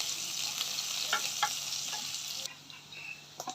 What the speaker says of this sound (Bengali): তেল গরম হয়ে গেছে, দিয়ে দেবো কিছু পেঁয়াজ আর হচ্ছে কালো জিরা